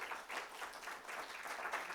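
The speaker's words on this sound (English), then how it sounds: "I want to have another round of applause for our two presenters, Dr. Cutler, Adam Nyman." An audience at an education forum applauds continuously, a soft, distant wash of many hands clapping at once.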